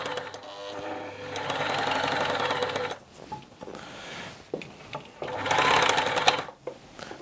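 A Tony CM 500 sewing machine stitching fabric, a loud steady mechanical whir with rapid needle clatter that runs in bursts, pauses briefly, then resumes, heard with no talking.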